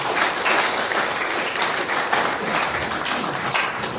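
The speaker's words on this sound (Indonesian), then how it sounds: "Tepuk tangan buat kita bersama." An audience at a community forum in a Pluit neighbourhood office breaks into steady, dense applause, loud and close, sustained evenly for the whole stretch without a break.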